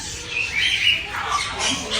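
Parrot squawking loudly and close in a busy bird shop, a few harsh rising calls over about two seconds with faint background noise.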